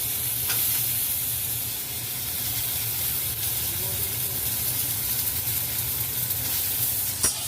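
Chopped pointed gourd frying in a pan, a steady hissing sizzle throughout with a few faint clicks and a soft voice in the background.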